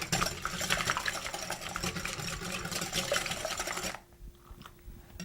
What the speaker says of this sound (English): You don't have to whisk them for very long.